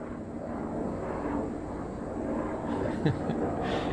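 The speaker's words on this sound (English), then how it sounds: "There's a very loud helicopter going by right now" Loud, steady droning roar of a helicopter passing overhead, a continuous rumble that swells slightly, with faint talk underneath.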